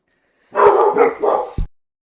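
A young dog that is still learning to be a guard dog barks in a quick cluster of loud, close barks, followed by one short final bark.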